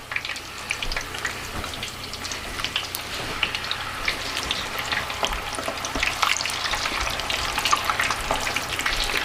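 Steak frying in hot oil in a pan on a home stove, with no deep fryer, gives a steady crackling sizzle with dense spitting pops throughout, close and fairly loud, with no talking.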